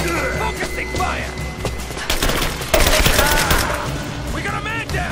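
Heavy gunfire erupts in Rise of the Tomb Raider, with dense bursts and rapid volleys loudest around the middle, while shouted voices sound amid the shooting.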